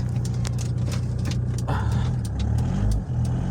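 A damaged Opel Astra G, wrecked in a crash and with a wheel rubbing, creeps along slowly, its engine a steady low drone with faint scraping and rattling noises over it.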